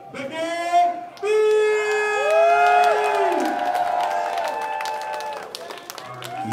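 A crowd at a professional wrestling show applauding and cheering, with clapping, whoops and shrill whistles rising and falling over several seconds, and voices calling out amid the noise.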